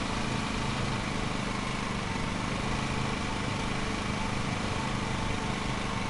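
Steady, continuous drone of a lawn mower engine in the Lawn Mowing Simulator game on PS5, running unbroken at an even level throughout with no pauses.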